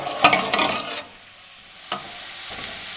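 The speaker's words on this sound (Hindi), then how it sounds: "प्याजों को हम मीडियम फ्लेम पे ब्राउन कर लेंगे।" Onions brown over a medium flame in a pan for jungli pulao, with a few quick scraping stirs up front, then a soft, steady sizzle with occasional light knocks.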